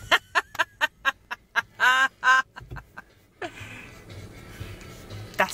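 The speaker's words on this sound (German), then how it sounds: "Und da geht eine Gans über die Straße." A goose gives a rapid series of loud, honking quacks, about a dozen calls in quick succession, while crossing a street in a park, followed by quieter street noise and a faint voice.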